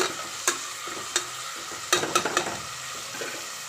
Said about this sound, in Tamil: வெங்காயம் போட்டு வெங்காயம் நல்லா கொஞ்சம் கோல்டன் ப்ரௌனில் வரணும்.